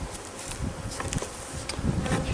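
A dense swarm of honeybees buzzes continuously around an opened hive during a large beehive removal, a close, steady drone with individual bees passing near.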